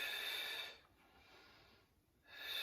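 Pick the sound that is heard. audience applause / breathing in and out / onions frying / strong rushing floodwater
breathing in and out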